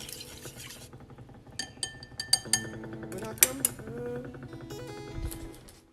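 Egg mixture seasoned with rose salt being stirred in a bowl for chawanmushi, giving clustered clinks and taps of a utensil against the dish amid soft background sound and a faint voice.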